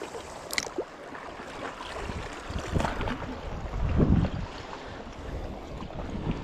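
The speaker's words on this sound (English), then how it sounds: "It's a little bit of crosswind" Gusty crosswind buffets the microphone on a shore while lure fishing over a shallow reef, a steady rushing roar with a stronger gust midway and faint lapping water beneath, no voices.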